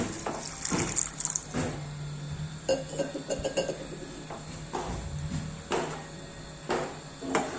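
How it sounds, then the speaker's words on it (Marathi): Water poured into a pan of sprouted-bean usal, a short liquid splash followed by clinks and scrapes of a utensil against the pan, close and fairly quiet, with no talking. "आपण त्यात थोडं पाणी घालू"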